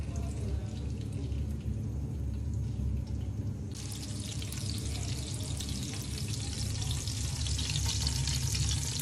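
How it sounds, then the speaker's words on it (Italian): Garlic, olive oil, chili and parsley stems sizzle in two pans, a steady dense crackle with watery hiss that brightens partway through, close and continuous with no talking. "io ho fatto 2 pentole con un po' di gambetti di prezzemolo e fate soffriggere"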